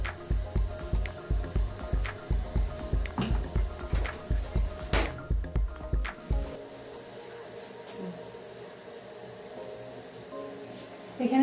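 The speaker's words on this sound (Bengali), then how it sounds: "এখন আগে ধুয়ে রাখা চাউলটা আমি এখন ভেজে নিব।" Pre-washed rice, about 1 kg, dropped into a hot pan for beef biryani, giving a rapid rhythmic run of sizzling, sputtering pulses for several seconds that then falls to a quieter low simmer.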